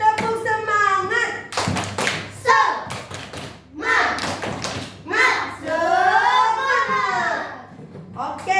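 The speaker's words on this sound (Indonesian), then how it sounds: "Tepuk semangat dulu. Tepuk semangat." Schoolchildren in an Indonesian classroom clap out a rhythmic patterned cheer, sharp hand claps and taps in bursts mixed with young voices chanting and calling along, close and lively.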